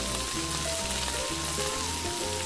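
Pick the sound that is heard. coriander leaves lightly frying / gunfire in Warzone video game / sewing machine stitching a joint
coriander leaves lightly frying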